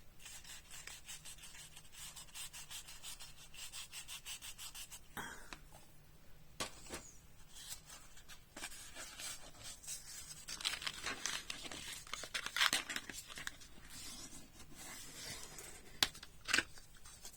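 Paper being folded and creased by hand for a handmade mini album, with steady soft rubbing and crinkling, a few sharper crackles and taps near the end, close and fairly quiet.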